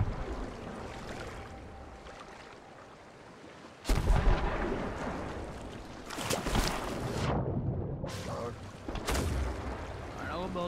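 Ship cannons boom in the pirate game Sea of Thieves amid high waves during a fight against a brig, heavy blasts and crashing water sounding loud and close, with players talking over the action.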